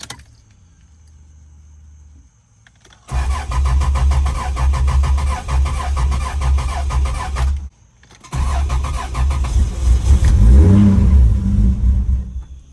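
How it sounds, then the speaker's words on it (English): A Jeep that has sat unused for a while cranks briefly, stalls into silence, then fires up again and settles into a loud, rough running engine with some revving, heard close and alone. "I haven't started this Jeep up in a while."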